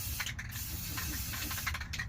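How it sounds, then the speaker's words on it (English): Continuous hiss of an aerosol spray paint can spraying a Honda CRX, steady and close, with slight fluctuations as the spray moves. "It's spray paint, Natalie"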